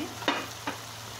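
Prawns dropped into a spice paste in a pan: two brief stirring bursts over a steady low hiss of frying.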